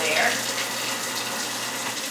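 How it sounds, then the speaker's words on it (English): Water runs steadily from a kitchen tap into a sink with a garbage disposal, a continuous broadband hiss with no break, fairly close. "So first I'll turn my water, let the garbage disposal run for a minute with the soap in there"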